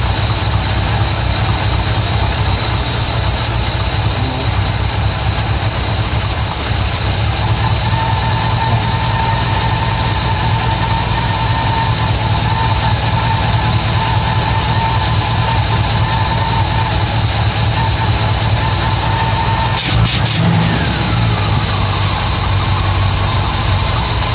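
MGB GT V8 engine idling at low revs just after its first start, a loud, steady low rumble with constant mechanical hum and a single brief clank near the end, close by and without speech.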